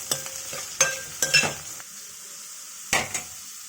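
Onion, curry leaves and green chillies fry in hot oil for a potato tomato curry while a spoon scrapes and clanks against the pan in several sharp bursts over a soft, steady sizzle, heard close up with no talking.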